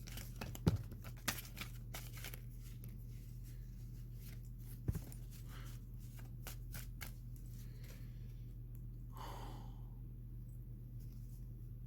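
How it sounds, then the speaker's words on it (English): Soft riffling and flicking of playing cards being shuffled, a few sharp snaps early on, with a faint steady hum underneath. "I'm gonna shuffle 2 more times."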